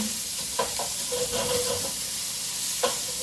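A wooden spoon stirs lamb paella in a hot pan over a constant loud sizzle, with a few soft scraping strokes near and no talking.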